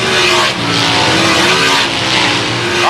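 Race cars roar past on a dirt oval track at the Kevin Gobrecht Classic, a loud continuous engine drone with rising and falling pitch as cars jostle for the lead, close and dense throughout.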